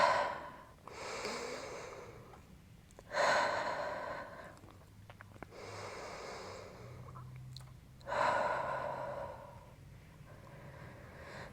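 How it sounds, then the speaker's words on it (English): Slow, steady breathing during a Pilates reformer oblique stretch, with soft nasal inhales and longer, airy exhales through the mouth. The breaths repeat in an even rhythm, close and quiet, with no talking over them. "Hold, breathing in through the nose,"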